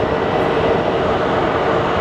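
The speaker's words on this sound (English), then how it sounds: "And we have a plane coming in from Pasco" A plane arriving at Phoenix Sky Harbor Airport sends a loud, continuous jet engine roar across the whole stretch, broad and steady with no voices.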